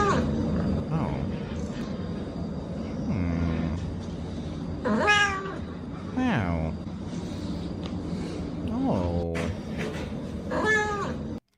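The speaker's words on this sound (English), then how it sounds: "such a really good kitty." A cat meows repeatedly nearby, several drawn-out rising and falling cries spread across the span, with someone talking underneath over steady background noise.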